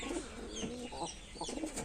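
Giribaj and Loton pigeons at a home loft coo softly in a brief, faint, low burbling call, heard close with no talking.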